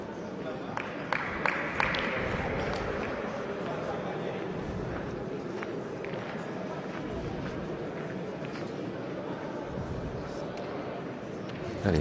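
Crowd noise at a pétanque match after a shot smashes the opposing boule, with a few sharp claps at the start and then a steady cheer and murmur from a large audience that keeps going to the end.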